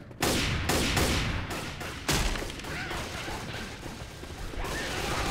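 Dense, loud gunfire from Left 4 Dead 2 on Xbox 360: overlapping rapid shots and bursts fill the whole stretch with almost no pause, close and harsh.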